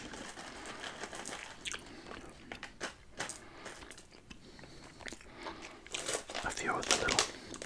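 Crinkly wrapper noises as a Starburst chewing gum packet is torn open along its perforation and the gum pellets are handled, with soft rustles and small clicks close up under quiet speech.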